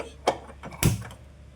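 A couple of sharp clicks, the second louder, as a gas stove knob is turned and the igniter catches, over a faint background hum.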